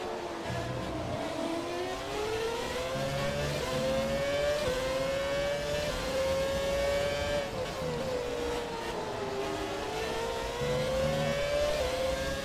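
A Renault R26 Formula 1 car in the F1 2017 racing game screams through continuous high-revving engine notes, rising and dropping through gear changes over a steady roar for the whole stretch.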